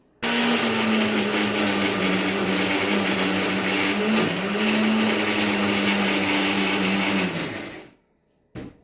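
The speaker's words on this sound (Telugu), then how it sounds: "ఇవి మిక్సీలో వేసుకుందాం ఇప్పుడు మిక్సీ పట్టుకుందాం" Mixer grinder blending mint chutney ingredients with peanuts, sesame, garlic and cumin, a loud continuous motor whine for about seven seconds that then stops abruptly, with a short knock afterward.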